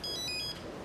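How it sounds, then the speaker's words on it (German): A telephone rings briefly, a short bright electronic ringtone chirp over a room background, then stops. "Ups, Telefon."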